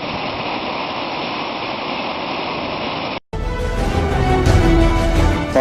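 The Brule River waterfall in Minnesota roars with a dense, continuous rush of falling water; after a brief cut near the middle, the roar resumes louder and fuller with a deeper rumble.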